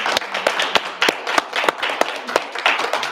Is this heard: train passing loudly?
no